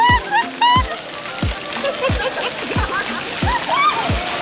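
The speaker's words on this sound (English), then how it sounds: "Is it for splat? It splashes." Repeated water splashes, about eight sharp splats at a roughly steady rhythm, close and loud, with excited voices talking and exclaiming over them.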